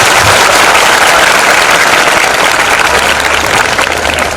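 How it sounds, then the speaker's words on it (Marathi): An audience claps to welcome a guest at a Marathi motivational talk: a dense, loud, continuous patter of many hands that fades slightly toward the end, with no voices over it. "साहेबांचं आपण सगळेजण टाळ्या वाजवून स्वागत करूया"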